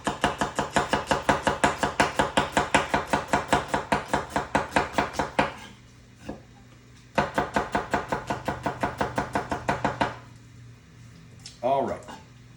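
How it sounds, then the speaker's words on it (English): A knife julienning red onion on a cutting board gives fast, even chopping strokes in two long runs separated by a brief pause, close and crisp, followed by a short voice near the end. "And we are also going to just julienne that red onion."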